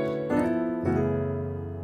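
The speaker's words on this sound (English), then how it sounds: "you can play a sharp 5, sharp 9 chord," Piano plays a gospel sharp 5 sharp 9 passing chord, two quick struck chords in succession, the second ringing out and fading, close and clear with no talking.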